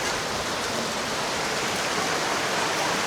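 Heavy rain pours steadily outside a Javanese food stall in Serpong, a loud, dense and unbroken hiss of water with no talking.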